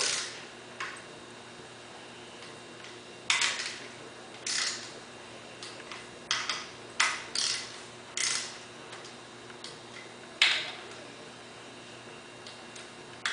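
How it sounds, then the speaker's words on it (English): Torque wrench clicking over at low torque while tightening timing cover bolts on a Scout II International Harvester, a series of light, sharp ticks spaced irregularly across the clip, faint and close, with no talking. "It doesn't really pop loud because it's not a real high torque, so you just barely feel it pop over."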